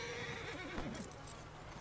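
Horse in the snowstorm of the video game Red Dead Redemption 2 gives a brief whinny, soft and somewhat distant, under a steady blanket of howling wind noise.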